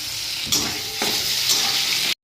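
Pieces of taro frying in oil with cumin seeds, turmeric and ginger paste give a loud, close, continuous sizzle with brief stirring bursts, cutting off abruptly at the end.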